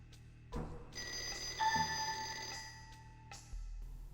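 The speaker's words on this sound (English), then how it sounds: "Okay, so we're getting a phone call." A telephone rings in the video game Shenmue: bright electronic ring bursts repeat in a quick pattern over a quiet background, with a soft thud as the ringing begins.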